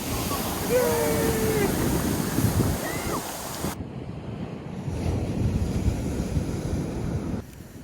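Sea waves washing onto the shore at La Graciosa in the Canary Islands, a steady loud surf roar mixed with heavy wind buffeting the microphone, with brief faint voices early on.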